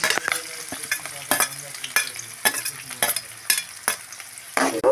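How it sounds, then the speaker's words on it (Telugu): Chilli, onion and curry leaves frying in hot oil for semiya upma, a loud close sizzle broken by repeated sharp scrapes and clatters of a spoon stirring in the pan. "మిర్చి ఆనియన్ రెండు వేస్తున్నా, అలాగే కరివేపాకు కూడా వేస్తున్నా."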